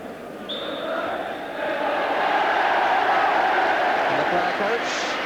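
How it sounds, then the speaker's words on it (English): Football stadium crowd at Coventry City, Crystal Palace, Sheffield United or Swindon Town match applauding a home side's 3-0 win, a broad sustained roar of clapping and cheering that swells and holds, with a commentator's voice over it. "The crowd applaud."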